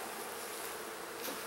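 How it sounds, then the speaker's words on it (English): Honey bees buzzing inside an open beehive, a steady, dense hum of many bees close by with no talking. "there's a decent number of bees in this hive"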